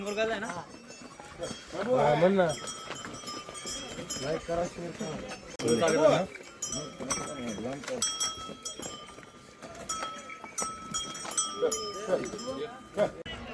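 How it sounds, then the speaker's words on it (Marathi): Bullocks pull a bullock cart downhill on the Shri Janai palkhi foot pilgrimage from Tarale to Nivkane. Bells clank and hooves clop beneath loud, nearby talking. "बैल खाली न्यायला सोपं नाही बैलगाडी नेणं"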